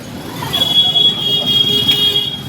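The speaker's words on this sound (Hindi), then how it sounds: "थोड़ी ट्रैफिक रहा है भाई" Daytime road traffic near the crowded Mehandipur Balaji temple, a steady engine rumble with a sustained high horn or whine tone, moderately loud and continuous.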